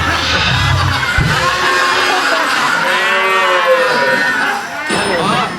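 Sacrificial cow mooing inside a TV studio, several loud, drawn-out moos over crowd noise and lively talk, close and prominent.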